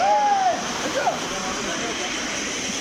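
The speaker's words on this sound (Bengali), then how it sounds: "আর এই দেখো ঝর্ণা, এখানকার ঝর্ণাটা কতটা সুন্দর দেখো" A waterfall in Darjeeling rushes with a steady, loud, broadband roar, with a couple of brief tonal chirps near the start.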